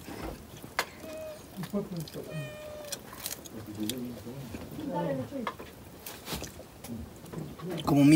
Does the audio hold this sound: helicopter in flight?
no